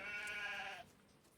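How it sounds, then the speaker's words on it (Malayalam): Sheep bleating inside a video game, one sustained wavering bleat heard up close and fairly loud, cutting off abruptly and leaving quiet background. "ഐ തിങ്ക് ദാറ്റ് ഈസ് ഈ ഗെയിമിൽ ഷീപ്പ് മാത്രമേ ഉള്ളൂ"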